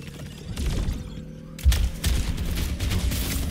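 Soldier 76 firing in Overwatch 2, a rapid fusillade of shots with heavy thumps and shattering hits, cluttered battle noise around it.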